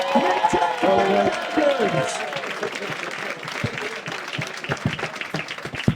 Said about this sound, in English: give a huge round of applause to both our roasters